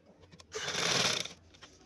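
A sewing machine stitches lace along a garment's neck edge in one short, steady mechanical whir, close and fairly loud, with brief handling taps before and after.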